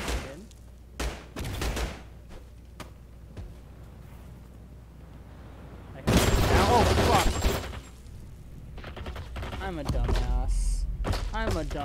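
A grenade explodes in a shooter video game with a sudden loud, close blast midway, surrounded by scattered gunshots and thuds, while a person talks.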